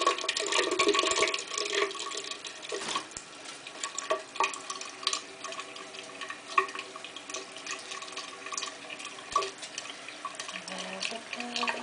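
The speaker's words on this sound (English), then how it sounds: "let's turn the water on." Bathroom tap running, water flowing steadily into a sink or tub with a continuous splashing wash and a few brief knocks over about twelve seconds.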